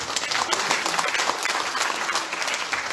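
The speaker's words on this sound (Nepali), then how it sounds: "जोनाथनको लागि एकपल्ट जोरदार ताली बजाइदिनु" An audience claps loudly for Jonathan at a discipleship gathering, with dense, steady applause filling the whole stretch and voices mixed in.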